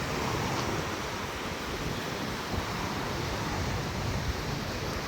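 Wind and choppy sea waves at a beach in Tsilivi, Zante, Greece make a continuous, dense roar of surf and gusting air, steady and fairly close with no voices.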